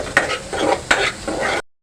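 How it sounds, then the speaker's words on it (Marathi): Ground masala paste being sautéed in a pan over a raised gas flame for Malvani-style masoor amti. A close, loud sizzle comes in bursts, broken by two sharp stirring scrapes, then it cuts off abruptly. "गॅसची फ्लेम वाढवून घेऊया आणि मसाले छानपैकी परतून घेऊया"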